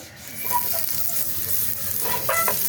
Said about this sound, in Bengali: আমি এখন এই চাটুর মধ্যে একটু তেল বুলিয়ে নিলাম